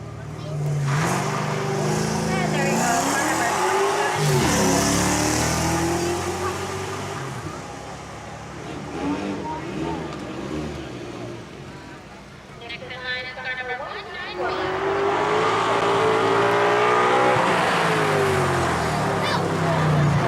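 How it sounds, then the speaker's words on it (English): Yellow Ford Mustang E Street prepared race car at the Weatherly hill climb, its engine roaring loudly and steadily for most of the run, dipping midway before surging again, with a voice talking over it. "a yellow Ford Mustang 27X E Street prepared, driven by Chris Mering from Hamburg,"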